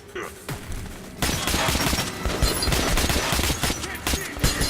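Enemy gunfire in Metro Last Light, a dense rattling burst of rapid shots that starts after a brief lull and keeps going, with game ambience underneath.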